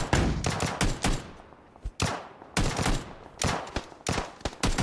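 Rapid bursts of gunfire in PUBG on Xbox One X, loud close shots in irregular clusters with short pauses between volleys, no voices.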